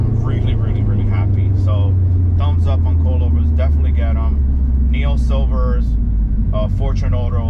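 A Subaru STI hatchback on newly fitted Factionfab coilovers and new rims drones steadily with a low engine and road rumble as it drives, while someone talks loudly over it the whole time.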